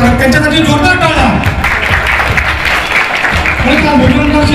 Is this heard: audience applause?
yes